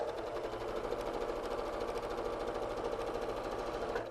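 A sewing machine runs steadily and fast while stitching quilt pieces together, giving a close, continuous mechanical whir with a rapid even chatter and no voices over it.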